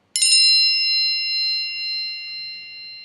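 A lock-screen message notification on an iPhone running iOS 7 sounds as one bright, bell-like ding. It is close and clear, and its pure chime tones ring out slowly over a few seconds in otherwise quiet surroundings.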